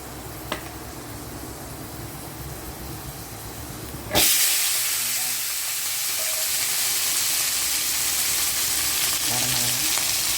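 Oil poured into a pan for a carrot and bean stir-fry, quiet at first with a faint tap, then a sudden loud burst of sizzling hiss that settles into a steady, continuous fry.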